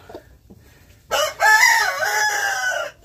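A chicken on a farm, refusing to leave a nest of eggs, lets out a loud close squawking call that rises and holds for about two seconds after a few soft quiet clucks.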